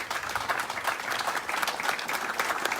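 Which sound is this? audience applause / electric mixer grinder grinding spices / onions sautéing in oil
audience applause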